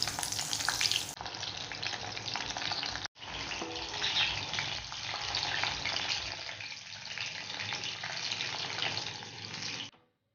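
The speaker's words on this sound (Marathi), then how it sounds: "या प्रकारे आपण मशरूमचे लॉलीपॉप तळून घेऊया।" Mushroom lollipops deep frying in oil give a loud, dense, steady crackling sizzle that runs almost unbroken for about ten seconds, with a brief dip near the start, and no talking.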